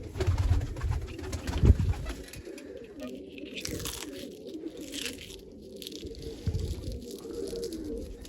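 Pigeons coo nearby in low, throaty bursts, with a few crunching and rustling sounds mixed in.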